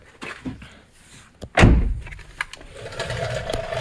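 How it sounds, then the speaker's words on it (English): A car door on a stage rally car swings shut in one loud, close thud, followed by faint cabin rustling and movement. "if I close the door"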